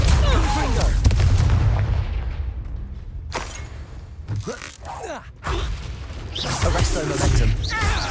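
Confringo fire spell blasts in the Hogwarts Legacy video game: booming, crackling impacts and mechanical creaks layered over dense, loud combat noise, with several distinct bursts across the stretch.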